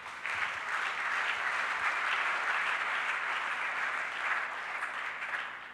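A church congregation applauds in a sustained, even wash of clapping from many hands, filling the room at a steady level for several seconds before easing slightly at the end.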